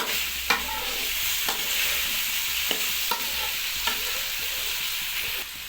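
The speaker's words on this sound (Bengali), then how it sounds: "একটু ভালোভাবে নেড়ে নিতে হবে।" Mixed vegetables sizzle steadily in a hot pan while a utensil stirs them, scraping the pan in a loose rhythm about once per second. The cooking is heard up close with no voices.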